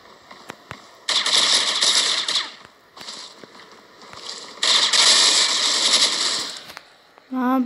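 Bursts of automatic gunfire from the mobile shooter game Critical Ops come in two long rattling volleys with short pauses and isolated single shots between, loud and close, ending with a brief electronic tone.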